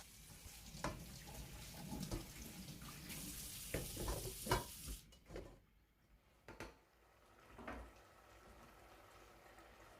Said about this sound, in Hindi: पास्ता रेडी हो गया है, अब मैं इसके अंदर से पानी छान लेती हूँ।